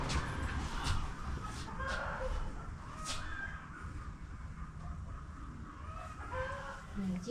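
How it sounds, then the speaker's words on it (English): Chickens clucking and calling near floodwaters by the Mekong River, intermittent squawks and clucks over a noisy outdoor background, fairly faint and unhurried. "Chicken."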